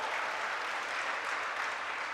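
An audience claps during a Jain monk's sermon in a legislative assembly hall. The applause is dense and sustained, a steady wash of many hands at even loudness for about two seconds.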